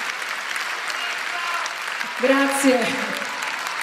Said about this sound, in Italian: Prendi l'applauso, sì, è tuo, mica mio.